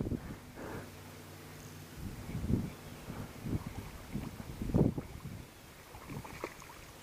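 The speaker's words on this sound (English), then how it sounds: "Oh, wind came back." Wind gusts blow outdoors at a shoreline while fishing for bluegill and sunfish, a soft rushing buffet that swells and fades in several bursts against the microphone.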